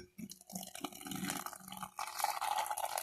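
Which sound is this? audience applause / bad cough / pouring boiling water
pouring boiling water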